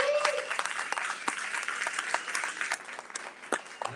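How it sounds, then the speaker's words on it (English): A room full of people at an event at the Island SPACE Caribbean Museum breaks into a round of applause, a dense, moderately distant clatter of many hands that carries on steadily throughout. "I want to give a big round of applause to her."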